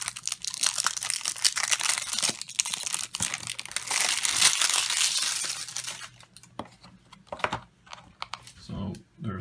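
Plastic wrapping is pulled and crinkled off the box of an A1200 Bifrost computer, close crackling and rustling bursts that fade into scattered handling clicks and thumps near the end.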